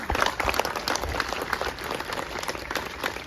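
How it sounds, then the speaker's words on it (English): A crowd applauds at the grand opening of El Centro at Mt. San Antonio College, dense and sustained clapping that holds steady throughout without pause. "So please, a round of applause for Gio and everybody involved in El Centro."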